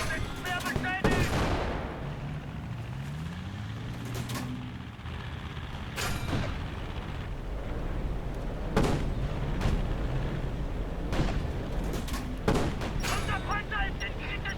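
Tank cannon shots in a German-voiced tank combat video game, several loud sharp blasts spaced a few seconds apart over a continuous engine rumble, with game voice callouts and player talk in between.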